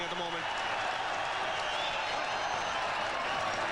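A large cricket crowd at Sharjah roars continuously during Tendulkar's 1998 innings against Australia, a dense, distant wall of cheering with no letup.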